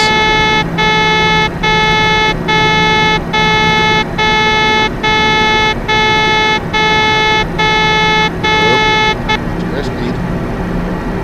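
Cessna landing gear warning horn in the FSX flight simulator, a loud steady beeping repeating in a fast regular rhythm for about nine seconds before cutting off, with someone talking over the engine drone.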